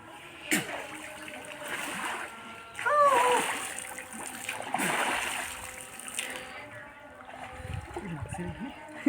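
Splashing in a cold village pond while bathing, several loud splashes and ripples close by, with people talking and exclaiming throughout.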